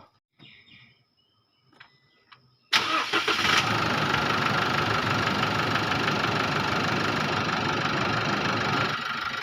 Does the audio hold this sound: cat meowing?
no